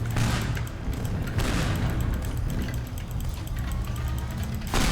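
A tank in the destruction game Teardown fires repeatedly, with loud booming blasts near the start, midway and at the end and rumbling debris noise in between.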